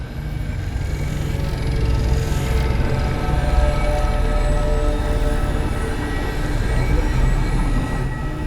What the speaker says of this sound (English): I've seen primitive trains like this in old ruins.